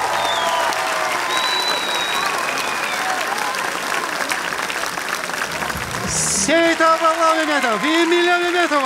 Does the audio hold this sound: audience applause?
yes